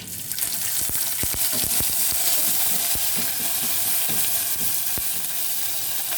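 Green chillies sputter in hot oil while making sabudana upma, a dense, loud, close sizzle with sharp crackling pops scattered throughout, unbroken by speech.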